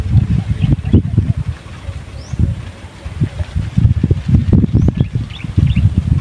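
Gusty wind buffeting the microphone outdoors, low rumbling surges rising and falling, with faint bird calls in the background.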